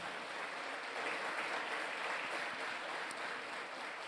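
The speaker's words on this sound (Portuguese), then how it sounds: "Aplauda o Senhor por conta disso" A church congregation applauds the Lord, many hands clapping in a dense, even patter that holds steady and fairly soft for about four seconds, with no talk.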